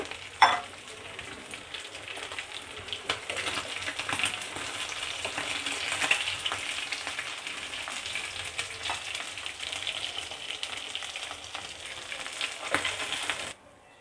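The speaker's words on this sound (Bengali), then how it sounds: "এক এক করে সব মাছগুলো এভাবে করে ভেজে নেব" Oil sizzles steadily as fish fries in a pan, a constant crackling hiss with a sharp clack near the start and another at the end.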